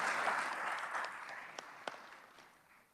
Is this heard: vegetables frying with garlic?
no